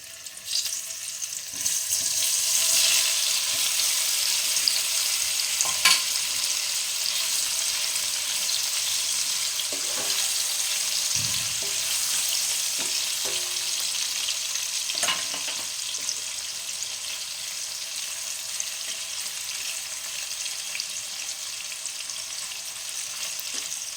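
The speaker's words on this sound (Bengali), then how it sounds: "এগুলোকে এইভাবে হালকা হালকা করে ভেজে নিতে হবে হ্যাঁ।" Paneer cubes coated in salt, Kashmiri chilli powder and turmeric fry in a pan, a steady bright sizzle with occasional soft clinks of stirring, close and continuous without talk.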